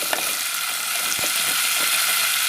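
Masala sizzling and frying in a pan for a prawn and ridge gourd curry, a steady broadband hiss with occasional stirring scrapes, close and fairly loud, no talking.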